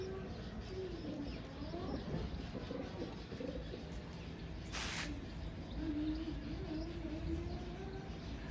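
Young pigeons cooing in soft, low, repeated coos over a steady background hiss, with one brief sharp noise burst near the middle.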